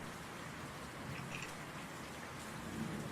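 Steady rain falls in the Anchorhead video game, a soft, even patter heard alone throughout, quiet and unbroken.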